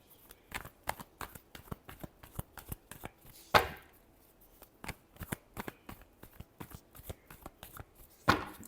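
Tarot cards are shuffled by hand in a rapid train of crisp riffling slaps. Two sharper snaps stand out among the steady rhythm, with no talking.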